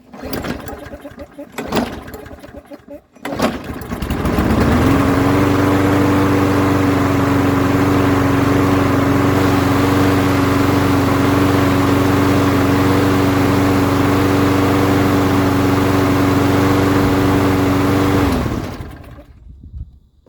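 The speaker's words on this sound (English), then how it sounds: "Come here and the lawnmower will start." A small lawn mower engine with a freshly cleaned carburetor catches after a few pulls, then drones at a steady, loud idle for a long stretch before cutting off abruptly.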